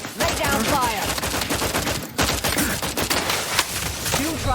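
Gunfire in The Outer Worlds 2 video game: loud, rapid, continuous shots crackle through a sustained firefight with a brief lull midway.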